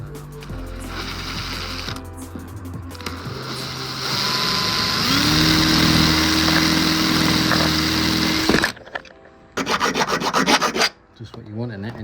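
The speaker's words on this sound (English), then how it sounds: "we're going to have to drill the top mount holes out" A drill boring out the top mount holes on a Skoda Fabia vRS during an air ride suspension fit gives a steady grinding whir that rises in pitch and then cuts off, followed by short bursts of rasping near the mic.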